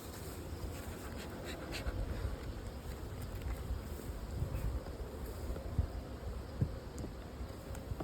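Bees buzzing around a beehive outdoors, a dense continuous low drone with wind rumble and a few sharper passing buzzes close to the microphone.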